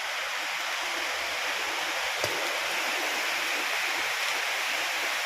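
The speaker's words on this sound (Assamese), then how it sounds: "বহুত জোৰত আহিছে বৰষুণ" Heavy rain falling over open fields, a steady dense hiss of downpour that stays even and loud throughout, with one brief faint tap partway through and no voices.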